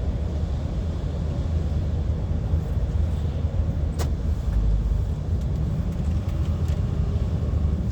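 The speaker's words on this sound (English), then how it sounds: "car just coming round at us" From inside a truck cab on the A702 in the Scottish Borders, an oncoming car sweeps past as a brief swell of whoosh over the truck's steady, loud engine rumble and road noise.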